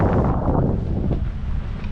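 Strong wind buffets the microphone while parasailing high over the water at Boracay, a loud, low rumbling roar that is gusty but continuous.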